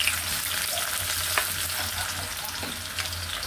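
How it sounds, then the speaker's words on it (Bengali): Onions fry in very hot oil on a kitchen stove, a dense, loud crackling sizzle held steady for a few seconds, with occasional stirring clicks over a low hum. "চুলার তেলটা অনেক গরম হয়ে গেছে, দিয়ে দিচ্ছি পেঁয়াজ।"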